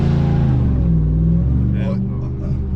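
An 800-horsepower Ram TRX pickup truck's engine held at full throttle on launch control, a loud, deep, steady rumble that stays heavy throughout while people talk over it.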